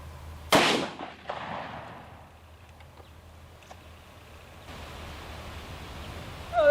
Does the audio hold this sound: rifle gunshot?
yes